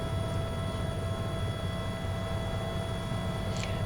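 A helicopter in Microsoft Flight Simulator 2024 gives off a steady, even whine and a low rumbling hum that stays constant and close throughout, with no voices.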